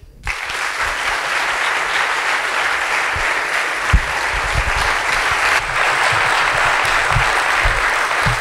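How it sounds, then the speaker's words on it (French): An evening storytelling audience breaks into sustained applause for the speaker, a dense, even wash of clapping from many hands that swells slightly toward the end, with a few louder nearby claps. "Merci d'applaudir Yannick"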